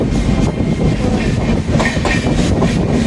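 A passenger train traveling between Thiruvalla and Kottayam in Kerala rumbles loudly on the rails as heard from on board, with a steady roar and repeated clickety-clack wheel beats passing over the rail joints.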